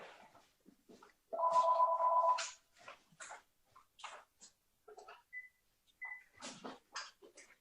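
A telephone rings once in a steady electronic burst, fairly loud, against an otherwise quiet room with scattered small clicks and faint noises before and after.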